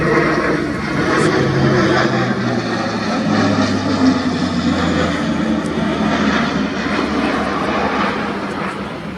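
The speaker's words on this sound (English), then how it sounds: "Now accelerating in for a pass designed to simulate a visual check of a simulated drop zone at a speed up to 285 knots." A German Air Force Airbus A400M Atlas military transport plane makes a fast display pass at up to 285 knots. Its loud turboprop roar holds steady with a droning propeller hum, and no one speaks.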